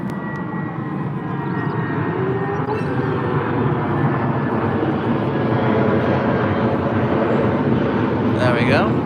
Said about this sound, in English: British Airways sneaked on the runway off to Prague